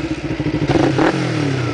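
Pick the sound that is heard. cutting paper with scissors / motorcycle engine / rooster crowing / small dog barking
motorcycle engine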